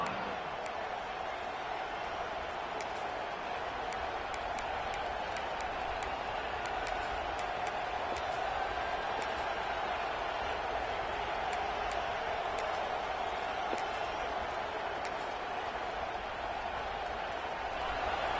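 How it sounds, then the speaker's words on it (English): A stadium crowd at a South Carolina college football game roars steadily and loudly, a dense sustained wall of cheering with scattered claps, no talk over it. "This crowd, full throat, splitting the eardrums"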